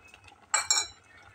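Sugar tipped into a pot of softly cooked vermicelli, giving two quick close clinks of metal against the pot, with faint background noise around them.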